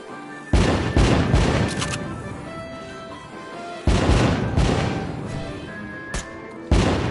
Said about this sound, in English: Light up those fireworks